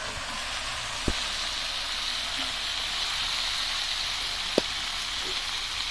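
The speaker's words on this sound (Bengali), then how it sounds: "এখন ভাজি হইতেছে পেঁয়াজের পাতা, সিম আর আলু দিয়ে" Onion leaves, beans and potato frying in a pan, a steady close sizzle running evenly throughout with a couple of sharp clicks from stirring, and no voices.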